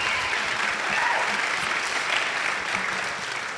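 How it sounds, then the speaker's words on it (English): A studio audience applauds guest Tonya Harding, a full, close burst of clapping that swells and stays loud for the whole few seconds, tapering a little at the close. "one more round of applause, just because she's here"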